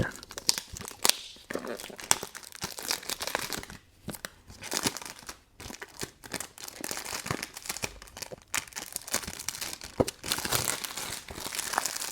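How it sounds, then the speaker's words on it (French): Packaging of a Nishane Wulong Cha X perfume being opened, with dense, close crinkling, tearing and rustling of paper and wrap in irregular bursts and short pauses throughout, no voices. "Procédons à l'unboxing."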